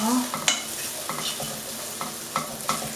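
Chopped onion softening in a pan for pulled pork buns, with steady sizzling, a few scraping stirs and light utensil knocks, close and alone.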